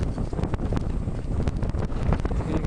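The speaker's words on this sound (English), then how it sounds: "You can see it's really windy." Strong November wind on an Algonquin Park lake buffets the microphone in continuous low roaring gusts, with faint water and canoe sounds beneath.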